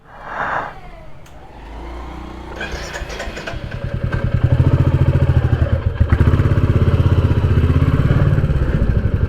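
A Royal Enfield Classic 350 Next Gen motorcycle starts, then settles into a steady, thumping single-cylinder idle that grows louder and holds, close by, with a brief noise at the start and no talking.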